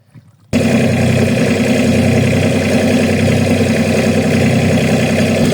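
A boat engine starts abruptly after a brief quiet moment, then runs at a steady, loud, close drone with a low rumble and no talking.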